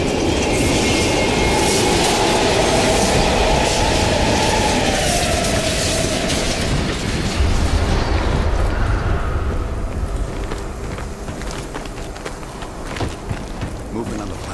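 A train in a Call of Duty: Cold War video game mission roars past loudly with rumbling wheels and rattling cars through a station, then fades and thins out as it moves away.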